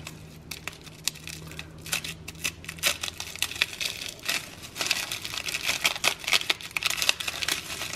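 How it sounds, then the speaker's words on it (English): Plastic wrap on a frozen Healthy Choice BBQ chicken flatbread pizza package is cut and handled, making close, irregular crinkling, snipping and tapping sounds that grow busier toward the end. "So I'm going to take this and cut the plastic."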